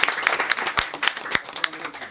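An audience at a political party gathering of fishermen's group leaders applauds, a brief burst of close, uneven clapping with a few sharp claps standing out.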